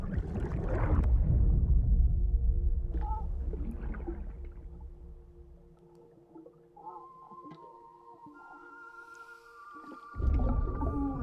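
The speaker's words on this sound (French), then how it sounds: "parce qu'il y a une baleine qui est apparue" A whale calls in the video game Death Stranding, a deep groaning vocalization followed by long sustained tonal moans that fade and swell against a quiet ambient background, with no talk.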